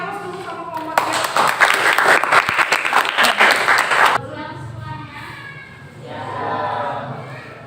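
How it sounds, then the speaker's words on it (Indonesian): A classroom bursts into loud, dense clapping for a student group stepping up to present, lasting about three seconds before cutting off, followed by a quieter voice speaking. "Kasih aplaus dulu sama kelompok 3"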